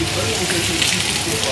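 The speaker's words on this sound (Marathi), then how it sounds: "बाहेर बघू शकता मस्त असा धो धो धो धो धो धो पाऊस पडतोय" Heavy monsoon rain pours outside a home in a dense, steady hiss that fills the whole moment, close and loud, with no other sounds standing out.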